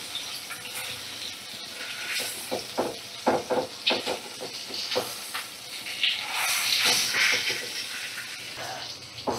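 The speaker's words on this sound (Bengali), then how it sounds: "মিডিয়াম ফ্লেমে রেখে ইলিশ মাছের মাথাটা ভাজা করে নেব" A hilsa fish head fries in a pan over a medium flame, giving a steady hiss with crackling spits and pops that rise and fall over several seconds.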